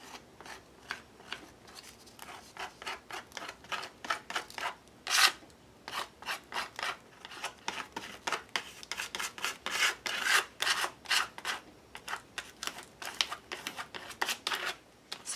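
A gift card scrapes green paint across paper around the edges of a mask, producing a rapid series of short, dry rasping strokes, close and fairly faint, in an uneven rhythm.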